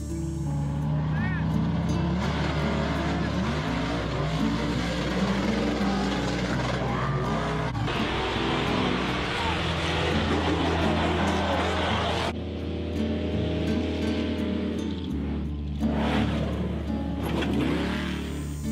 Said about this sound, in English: I'm fixing to show you some strange monster truck videos